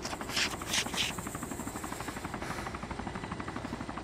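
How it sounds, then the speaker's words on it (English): Helicopter in the video game ArmA II, a steady rhythmic rotor chop with a few louder bursts early on, running throughout at moderate level. "Shit, the helicopter."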